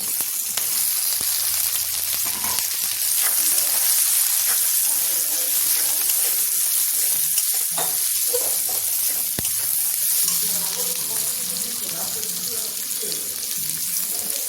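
Green chillies and onion sizzle in oil in a frying pan, a continuous loud hiss that runs steadily throughout with occasional faint clinks.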